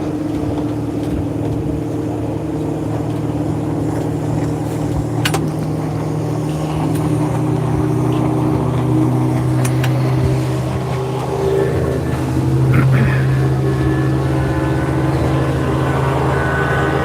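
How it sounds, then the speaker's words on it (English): A boat motors past in the harbor at Kavieng, Papua New Guinea, its steady low engine drone holding close and loud for the whole stretch, swelling slightly as it passes, with no talk over it. "She also just heard that friggin' boat going by."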